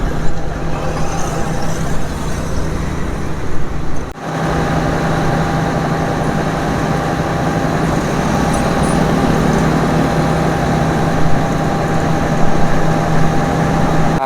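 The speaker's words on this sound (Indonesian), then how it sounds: "Ini hidup, doser juga hidup, full blower." Heavy equipment engines, including a bulldozer and a blower, idle together at a roadside construction site, a loud, continuous low droning rumble with a steady hum and a brief dip midway.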